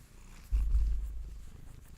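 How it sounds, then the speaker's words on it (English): A cat purring close by, a low steady rumble that swells suddenly and then continues softly without any talking. "Oh, the purrs."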